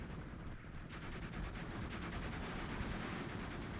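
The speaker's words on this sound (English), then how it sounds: "Double MG42." Steady MG42 machine gun fire in the video game Steel Division 2, a dense continuous rattle of rapid shots with rumbling battle noise, moderately loud and unbroken.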